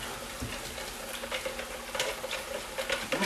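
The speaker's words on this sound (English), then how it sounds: "mix that all together" Cheap pomace olive oil salad dressing being mixed together in a bowl, a brisk, close stirring and whisking with soft, uneven wet swishes and clicks throughout.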